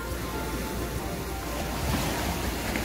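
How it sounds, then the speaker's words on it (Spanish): Small sea waves wash gently onto a beach in Almería during surfcasting, a continuous soft broadband rush of surf with light wind noise, near and steady, with no talk. "Queda un poquitín de ola, pero nada, muy poquito."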